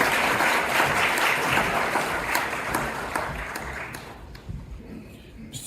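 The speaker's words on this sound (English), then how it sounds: "A round of applause, please." Audience applause at a forum welcomes the President of Sierra Leone before his keynote address, a dense, steady wash of clapping that slowly fades toward the end.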